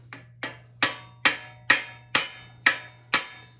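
Bushing driven into a Harley-Davidson WLA WWII motorcycle frame with a hammer: eight sharp, evenly spaced metallic blows about half a second apart, close and clear over a low steady hum, no talking.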